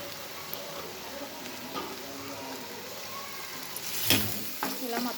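Broad beans stir-frying in a pan for a homemade curry, a steady close sizzle with occasional scraping stirs and a louder hiss near the end, no talk.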